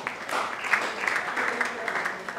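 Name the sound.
congregation applauding in church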